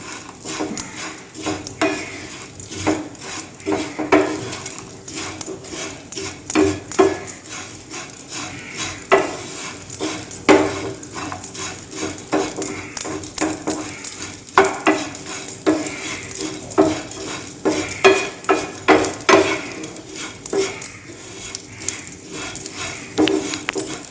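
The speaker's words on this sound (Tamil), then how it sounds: "அவள் கூடயே முந்திரியை போட்டுட்டோம்னா கொஞ்சம் நல்லாயிருக்கும் தனியாக வறுக்கிறத விட இது கூட வறுத்தோம்னா நல்லா வறுத்துடலாம்" Cashews roast with flattened rice in a pan, and a spoon stirs continuously through a busy scraping, rattling, crackling texture at close range, with no voices.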